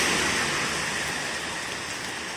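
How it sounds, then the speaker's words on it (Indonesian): Evening rain falls outside a mobile phone shop, making a steady, close hiss of drops on a surface with no voices over it. "masih lagi menikmati air hujan bosku"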